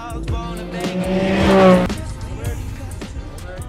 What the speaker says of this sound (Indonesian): Setelah itu, Cody berangkat menggunakan mobil sport yang sudah difasilitasi.